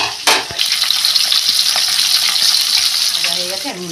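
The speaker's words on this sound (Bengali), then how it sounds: "মাছটা আমি ভালো করে ভেজে নেব।" Lylon tika fish sizzles loudly in hot oil for a Bengali gravy, a close, dense crackling fry that holds steady with a sharp spatter near the start and no talking.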